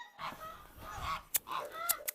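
Farmyard geese honk nearby in a series of nasal calls, several short sharp honks punctuating the sequence over a quiet background.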